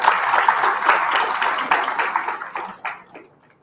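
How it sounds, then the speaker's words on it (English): Applause from students at a university program event, a dense burst of clapping that gradually thins into scattered claps and dies away near the end. "A big round of applause for all."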